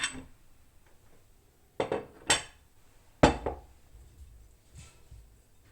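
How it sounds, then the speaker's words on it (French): Potatoes dropped into a tajine pot of chicken and olives make a few separate hard clatters and knocks, each a sharp impact with a short ring, close by in a quiet kitchen without speech. "Donc je mets mes pommes de terre."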